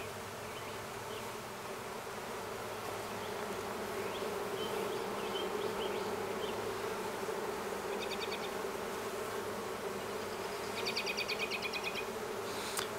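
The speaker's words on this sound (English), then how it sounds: "Although bees aren't very happy with me right now." Agitated honeybees swarm around a honeybee hive that has been opened and taken apart in late July, a dense, steady buzz close to the ear, with individual bees whining past now and then.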